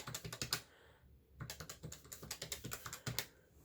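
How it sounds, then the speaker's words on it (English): Rapid mechanical key presses on an adding machine clatter in quick bursts, with a short pause before the tapping resumes, close by and fairly quiet. "The keys of my adding machine to the side of me"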